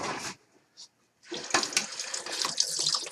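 A kitchen tap runs as a knife is washed. A short splash comes first, then a brief pause, then a steady, fairly close stream of running water that splashes against the blade.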